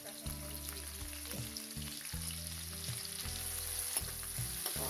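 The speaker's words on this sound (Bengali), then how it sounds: "পেঁয়াজ মরিচটাকে আমি হালকা করে ভেজে নিচ্ছি" Onion and chili frying in oil in a wok for a broiler chicken curry, a steady loud sizzle with occasional stirring scrapes, no voices.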